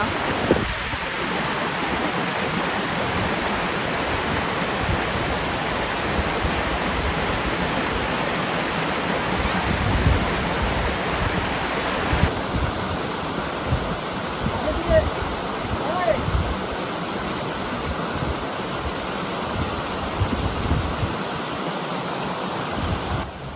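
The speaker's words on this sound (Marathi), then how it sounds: "एकीकडे होता तो वरचा धबधबा" An upper waterfall in green monsoon hills roars as a steady, loud, unbroken rush of water throughout, with no pause in the flow.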